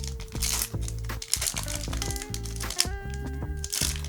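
A Pokémon Fusion Strike booster pack is torn open, giving close crinkling and crackling of the foil wrapper that runs steadily throughout, with some overlapping tonal background sound.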